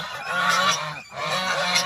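Farm geese in a mountain setting honk loudly and close by, a cluster of nasal calls overlapping with a brief dip in the middle.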